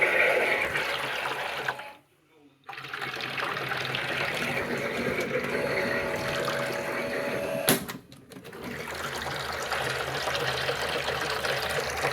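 A brand-new Miele W1 toy washing machine runs with water inside, giving a continuous close churning and sloshing of water broken by two brief pauses.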